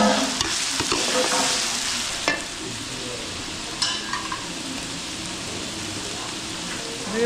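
Chicken breast and chicken liver frying in a pan for pancit, a continuous bright sizzle with a few sharp clatters of stirring utensils scattered through, no talking.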